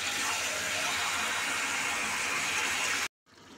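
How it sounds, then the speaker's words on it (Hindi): Water runs steadily from a tap over chicken pieces being washed in an Indian home kitchen, a continuous splashing hiss that cuts off abruptly near the end, followed by faint quieter running. "इसको थोड़ा ऐसा ही धो दूँगी"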